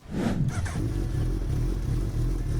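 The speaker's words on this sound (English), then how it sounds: "Number 1, Suzuki Hayabusa 1340cc inline 4." A Suzuki Hayabusa 1340cc inline-four motorcycle engine revs up sharply and then holds a loud, steady, deep roar close by, with no talk.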